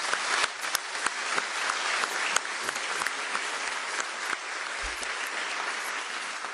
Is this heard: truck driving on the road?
no